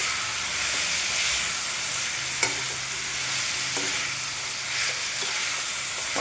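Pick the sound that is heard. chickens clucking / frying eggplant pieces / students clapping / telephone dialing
frying eggplant pieces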